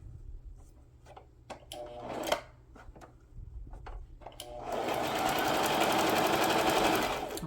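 A sewing machine stitching together fabric scraps, with a few clicks and handling knocks at first, then a steady, close, whirring run of rapid stitching through the final seconds.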